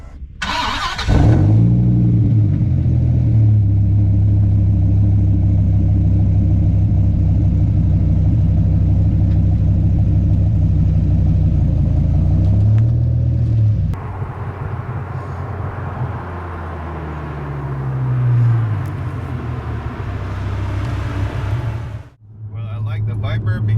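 A Dodge Viper V10 idles and runs steadily and loudly close by, with a deep continuous drone that shifts in tone partway through, swells briefly, then dips near the end. Voices are faintly present under the engine.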